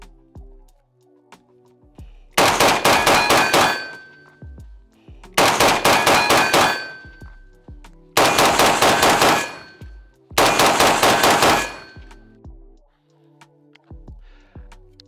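Four tight bursts of rapid pistol shots at paired targets on a training range, each a quick cluster of sharp cracks, separated by short pauses with faint clicks between.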